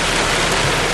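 Heavy rain pours steadily during a Florida thunderstorm near the ocean, a dense, loud, continuous hiss with no gaps and no voices.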